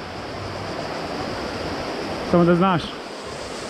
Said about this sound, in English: Pretty sure this is the river Buna in front of us.